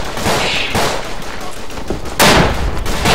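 Artillery and rifle fire in the WWI shooter Verdun crack and boom repeatedly at close range, with a heavy blast near the end in a loud, continuous battle.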